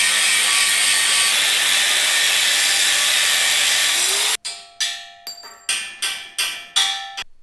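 Angle grinder with a cutoff disc cutting steel during an X-frame build, giving a loud, close, continuous high screech for about four seconds. Then the grinder cuts out and a run of sharp metallic ringing hits follows, each fading quickly.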